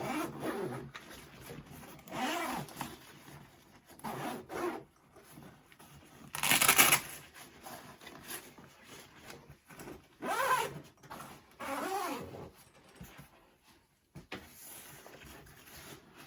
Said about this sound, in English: Let's unzip this.